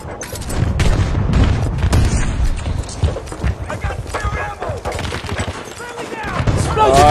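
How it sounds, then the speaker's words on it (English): Battlefield 2042 gameplay with a loud, dense stretch of blasts and gunfire, one of them a grenade explosion, booming and crackling under continuous excited talk from players. "Oh, I threw a grenade and it came back at me."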